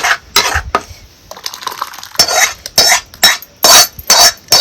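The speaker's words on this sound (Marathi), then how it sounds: "आता सगळी डाळ ह्या पातेल्यात ओतून घेते" Cooked black bean dal is tipped from a pan into a cooking pot in a home kitchen, with a run of loud, close metallic clatters and scraping bursts from the ladle against the metal, and no talk.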